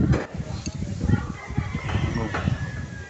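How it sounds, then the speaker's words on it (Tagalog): Chickens cluck and a rooster crows outdoors on a mountainside, the calls fairly close and mixed with steady open-air background noise throughout. "sabi pa yung mga manok"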